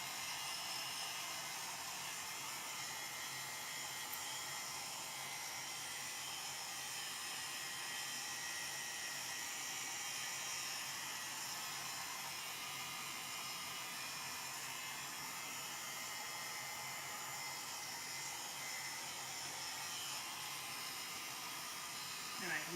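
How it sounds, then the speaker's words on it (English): Heat gun on a low setting blowing hot air to shrink wrap film down, a steady even airy whoosh running continuously at moderate, faint level. "I have a heat gun."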